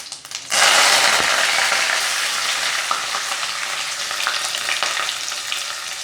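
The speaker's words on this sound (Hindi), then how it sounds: "अब हम इसमें सौंफ और कड़ी पत्ता डालेंगे और प्याज डालेंगे।" Onions, fennel and curry leaves hitting hot oil after mustard seeds, with a sudden loud burst of frying that settles into a dense, steady sizzle with faint stirring, close and alone.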